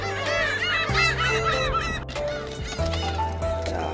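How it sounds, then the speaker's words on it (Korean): A large flock of seagulls gathers to be fed snacks by weekend visitors along the Gyeongin Ara Waterway, with loud overlapping honking, harsh calls filling the whole stretch, no pauses, close and constant. "아주 갈매기들이 엄청나게 때로 몰려왔습니다"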